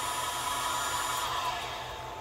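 A Grizzly G0704 CNC mill idles down with a steady whirring hum and a high, even tone that stays continuous and fairly loud before easing slightly at the end.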